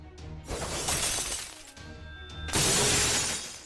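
Glass shattering as a sound effect, two loud crashing bursts of breaking glass with ringing debris, the second burst heavier and longer, close and dominant.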